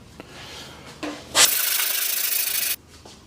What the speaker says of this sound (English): So you can see now with this sweep as a sanding tool, it's given us the ability to go right up into that corner quite tightly.